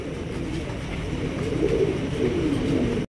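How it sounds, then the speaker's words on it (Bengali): A pair of red Lahori Sirazi pigeons coo softly at close range, low rolling calls repeating over a steady background murmur. "রয়েছে একজোড়া লাহোরি গেটআপের রেড কালারের সিরাজি কবুতর দেখতেই পাচ্ছেন"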